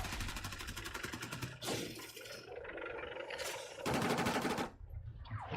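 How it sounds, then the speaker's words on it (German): Gunfire in Battlefield 6: rapid automatic bursts crackle in several volleys with short pauses, close and loud, mixed with sharp impacts and background battle noise. "Was schießt denn da auf uns?"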